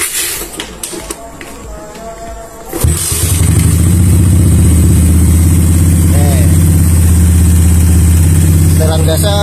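Suzuki Satria FU motorcycle with a PE 28 carburetor: a few seconds of clattering handling noise, then the engine starts and idles loudly and steadily at close range.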